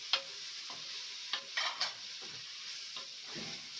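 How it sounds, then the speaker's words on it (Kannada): Garam masala sizzling in a pan for prawn biryani, with a quiet steady fry broken by several light spoon-stirring scrapes and taps, no voices. "ಇವಾಗ 2 ಚಮಚ ಗರಂ ಮಸಾಲ ಹಾಕೊಂಡು ಫ್ರೈ ಮಾಡ್ತಾ ಇದ್ದೀನಿ."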